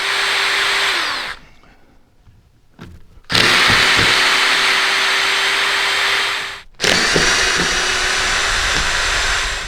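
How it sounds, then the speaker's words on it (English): A power drill unscrews wood screws from a wooden box panel, two long loud whining runs with a pause between, the motor holding steady pitch and winding down at each stop, no talking. "the box is put together by screws, wood screws. So what I want to do first is to unscrew this"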